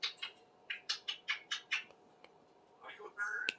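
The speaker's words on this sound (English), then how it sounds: "Are you a pretty, pretty parrot, Smoke?" A pet parrot named Smokey gives a run of sharp, raspy squawks in quick succession, then a few scattered cries near the end, heard close by in a quiet room, with a voice talking around them.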